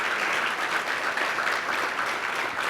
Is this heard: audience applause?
yes